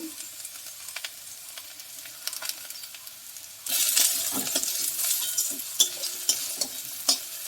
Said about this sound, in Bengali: এই হলুদটা ভালো করে একটু ঢ্যাঁড়সের সাথে তেলে একটু ভালো করে নেড়ে নেবেন